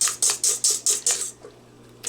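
A whisk beats egg whites into sugar for tiramisu, making about six quick, bright metallic strokes against the bowl in a steady rhythm before stopping abruptly, close and clear with no talking.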